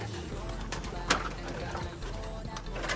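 Pigeons in a flooded training area coo softly and intermittently amid steady outdoor background noise, with a few brief chirps and faint flutters.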